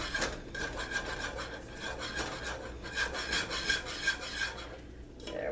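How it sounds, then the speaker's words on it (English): Strawberry jello powder is whisked into a pie filling with a brisk, steady scraping and rubbing whisk rhythm against a bowl, close and fairly quiet. "I'm just going to whisk it in."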